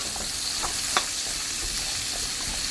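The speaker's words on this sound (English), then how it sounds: "just saute the vegetables for probably about 5 minutes until they soften a little bit" Vegetables seasoned with lemon pepper sauté in a pan, giving a continuous, even hiss. A few faint ticks and pops rise out of the sizzle.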